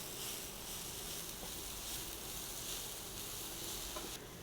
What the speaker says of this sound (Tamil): ஸோ நல்லா வதங்கி வந்ததுக்கப்புறம் பச்சை மிளகாய் ஆட் பண்ணிக்கோங்க.